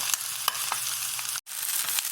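Corned beef hash sizzles loudly in a hot pan, a dense crackling hiss with small pops, broken by a brief silent gap.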